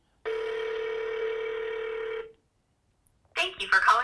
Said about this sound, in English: I'm gonna try to make a phone call, and we are gonna try to connect to see if the phone is able to make calls